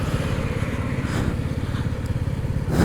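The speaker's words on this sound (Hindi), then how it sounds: "अपनी 2 bike TVS Ronin and royal Enfield meteor 350 और अपनी हाइनेस" Motorcycles setting off on a group ride near Ranchi, a TVS Ronin, a Royal Enfield Meteor 350 and a Honda Highness CB350, with a steady low engine rumble running throughout, close and fairly loud.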